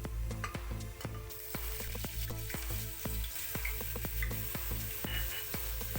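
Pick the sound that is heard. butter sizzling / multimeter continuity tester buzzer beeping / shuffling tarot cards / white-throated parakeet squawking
butter sizzling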